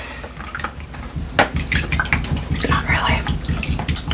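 Hands rinsed under a running tap at a sink, with continuous splashing and gurgling water that swells halfway through, while someone speaks briefly and softly over it.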